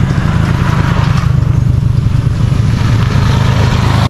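A Honda XR150L motorcycle engine drones loudly and steadily at close range, a continuous low rumble holding an even pitch with a constant rushing ride noise over it.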